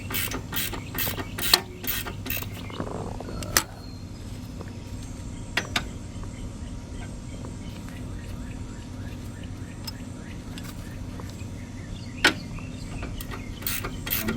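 Control arm bolts are snugged up with a ratchet on a 2017 Dodge Durango GT AWD 3.6L V6, giving a quick run of clicking at the start, then sparse single clicks and metallic knocks over a low steady hum.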